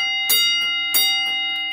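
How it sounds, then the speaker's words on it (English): Model railroad crossing signal bell on a 10 ft crossing unit with 4-inch LEDs, sounding as two sharp metallic strikes with ringing tails, close and clear with no voices. "B button turns the bell on"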